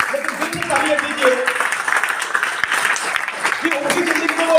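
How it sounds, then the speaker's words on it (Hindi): An audience at a fourth-anniversary celebration in Indore claps in welcome, a busy spread of hand claps heard close, with voices and chatter running through it. "थोड़े जोरदार तालियों से हम उनका स्वागत करना चाहेंगे"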